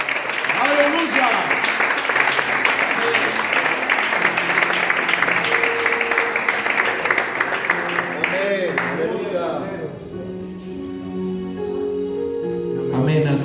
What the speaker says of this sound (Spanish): ¿Puedes darle un aplauso a este Cordero?